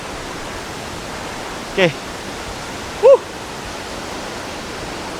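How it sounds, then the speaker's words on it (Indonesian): Kapas Biru waterfall in Lumajang roars in a constant, loud broadband rush, with two brief spoken interjections rising above the falling water. "akhirnya kita sampai di air terjun Kapas Biru"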